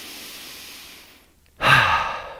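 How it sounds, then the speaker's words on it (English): One slow, soft inhale is followed by a short pause, then a louder, airy exhale at close range during a gentle joint-care exercise. "deep, relaxing breath."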